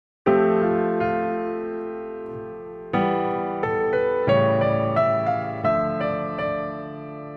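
Solo piano played from a lead sheet, a right-hand melody over simple left-hand block chords; several fresh chords are struck and left to ring, with sustained notes in between and no talking.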